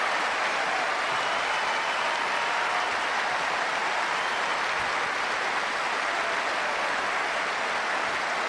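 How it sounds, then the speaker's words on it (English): A Wimbledon final crowd applauds steadily, a dense, unbroken wash of clapping from thousands of spectators filling the whole stretch at full strength. "They go on applauding."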